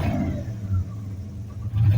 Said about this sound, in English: Got a cylinder hitting a little bit. It needs plugs and wires.